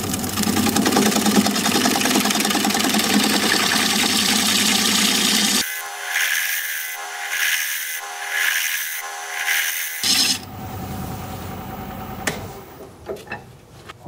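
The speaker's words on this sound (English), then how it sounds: "Lower it back down so I can use my gouge to make the recess." A wood lathe turns while a gouge cuts a recess, giving a steady whirring and scraping hiss. It breaks off midway into quieter, intermittent knocks and scrapes.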